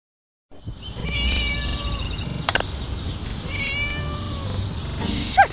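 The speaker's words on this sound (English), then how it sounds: "Up, you silly cat." Cat meows from a video game, several distinct meowing calls over a busy game soundscape with music and effects, fairly close and loud, no talking.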